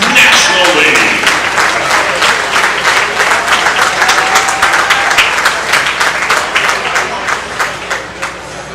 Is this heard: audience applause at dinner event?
yes